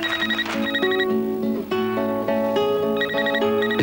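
A Nokia mobile phone rings in a 1994 French TV advert, giving a bright electronic ringtone of repeated beeping tones in a quick melodic pattern that plays clearly and continuously, with no talking.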